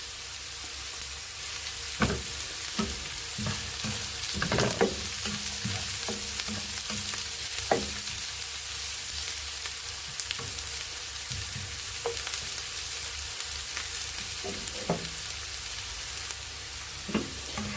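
Spices sautéing in coconut oil for a sardine curry make a continuous soft sizzle, broken by intermittent stirring scrapes and taps against the pan, heard up close with no talking.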